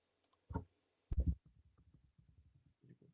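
Computer mouse clicks while navigating a Hive game website: a few sharp, close clicks in quick succession followed by softer, fainter tapping and handling noises in a quiet room.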